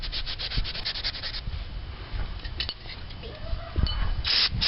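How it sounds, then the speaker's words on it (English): Scotch-Brite pad scrubbing the brake caliper pins of a Nissan 350Z with Brembo calipers: close, continuous rasping rubs in quick repeated strokes, with no talking. "the brake pins we're going to need to clean with a little bit of Scotch-Brite"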